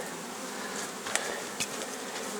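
Honeybees at summer apiary hives after rain, giving a steady, close, continuous buzzing hum with a couple of brief louder passes of single bees and no voices.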